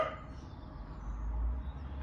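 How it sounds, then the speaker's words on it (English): A neighbouring dog barks faintly from next door in a garden, the sound distant and low beside a soft background hum. "sorry about the noise from next door's dog"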